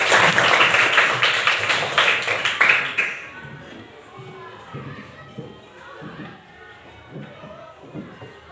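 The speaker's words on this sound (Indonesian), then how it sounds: "tepuk tangan untuk Maisel" A classroom of students applauds a classmate with quick, loud, rhythmic claps for about three seconds, then the clapping stops and children's voices and murmuring continue more quietly.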